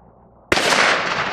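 A .50 caliber rifle shot hitting a watermelon outdoors, a single sudden loud blast after brief quiet, followed by a broad rushing roar that slowly fades.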